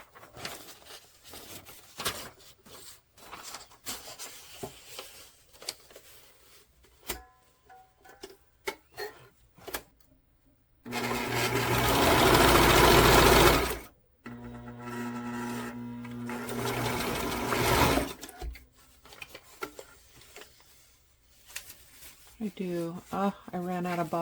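A sewing machine stitches vintage paper journal signatures in a brief, loud, steady whirring burst of about three seconds, set among scattered handling taps, rustles and talk.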